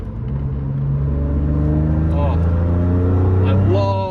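A BMW M3 engine drones steadily while driving, a strong low note that climbs in pitch as it revs partway through, close and loud throughout.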